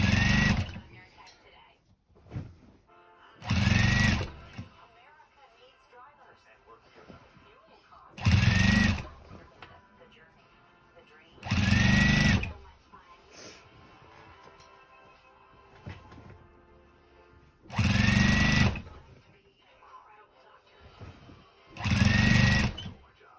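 A sewing machine stitches denim quilt blocks for a quilt-as-you-go blanket in six loud, fast whirring runs of about two seconds each, separated by quiet pauses, close up and with no talk.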